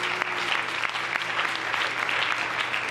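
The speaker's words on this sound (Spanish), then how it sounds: "Denle un aplauso a la gloria del Señor Jesucristo." Church congregation applauding, a steady dense wash of clapping that holds loud and even throughout with no talk over it.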